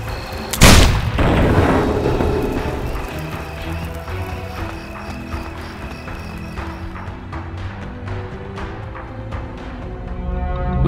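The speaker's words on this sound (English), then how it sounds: "the enhanced cannons can be used to blast a huge" Heavy cannon blasts from the Risen 2: Dark Waters video game, aimed at a prison wall: a loud booming impact near the start, followed by a rumbling, clattering stream of lighter knocks and thumps over a steady low background.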